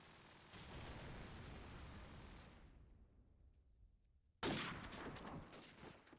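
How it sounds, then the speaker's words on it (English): Rifle fire from an M4 in Call of Duty 4 during a Stuttgart LAN tournament match, a dense rattle of gunfire that fades into a quiet gap before a sudden loud shot and more sustained firing. "Rixer trying to go for a wall bang on to Looney. And he does find that shot."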